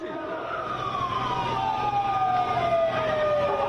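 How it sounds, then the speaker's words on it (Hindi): Police vehicle sirens wail as the vehicles arrive at a political rally in Hathras, a long falling tone over crowd and traffic noise, moderately loud and a little distant. "पुलिस की गाड़ियों के पहुंचते हुए ये आवाज भी आप सुन सकते हैं"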